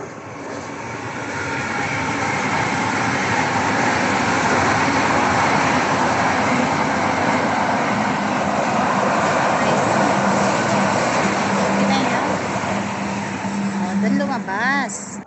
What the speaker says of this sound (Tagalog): Ayan na yata ang train.